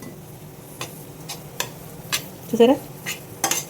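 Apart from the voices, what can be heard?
mixing mango pickle paste with oil by hand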